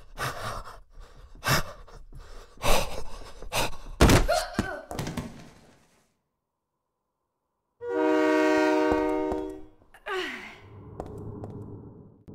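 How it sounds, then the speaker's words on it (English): A subway train roars past in a station in Silent Hill 3, a loud sustained rush with a harsh horn-like tone, after scattered thuds and a sudden silence, then trailing off into mechanical clanks. "the train's gonna kill us"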